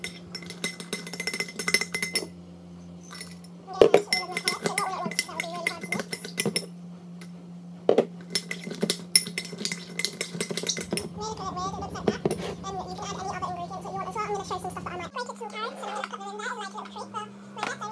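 A spoon clinking and scraping in a bowl while mashed banana is stirred, giving light, irregular taps against a steady hum, with a voice and other talk in the background.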